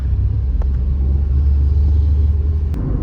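Steady, loud low rumble of road traffic heard from inside a car in heavy Gurgaon traffic on a windy day, a continuous engine-and-tyre drone with a couple of faint brief clicks and no talking.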